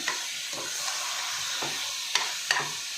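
Masala spice mix with garam masala and coriander powder for soya chunk pulao is stirred in a frying pan, with a constant close sizzle broken by a few scraping strokes and two sharp clinks of the spoon.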